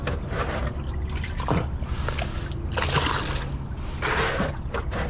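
Dirty water is bailed and poured out of a small motorboat in repeated sloshing splashes and trickles, close by, over a continuous watery background with little talking.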